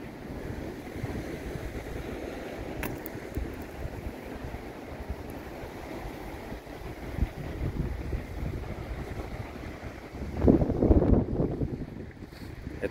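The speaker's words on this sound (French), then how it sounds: "Il y a toujours du vent" Steady wind blows across a seaside rock promenade at Calpe, a continuous broadband rush with surf-like swells, buffeting the microphone and growing louder and gustier near the end, with no voices.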